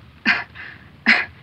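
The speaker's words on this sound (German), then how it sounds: "Jetzt mal husten." Two short coughs, close and distinct, about a second apart, with soft breathing between them.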